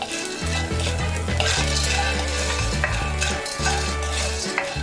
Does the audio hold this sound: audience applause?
no